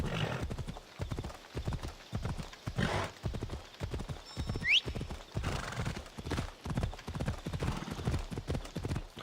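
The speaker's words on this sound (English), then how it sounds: "Horse was getting tired, slowing down." Hooves of a horse in Assassin's Creed Odyssey beat out a steady, rhythmic gallop on a road, close and continuous, with a brief whinny partway through and occasional faint ambient sounds.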